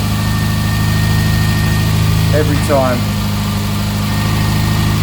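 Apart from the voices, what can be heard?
1984 Ford Fiesta Mk2 Ghia engine idling after starting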